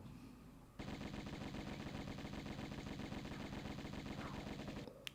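Uzi fire from the Tomb Raider I Remastered game bursts in suddenly and rattles as one continuous, evenly paced stream of rapid shots for about four seconds, then cuts off.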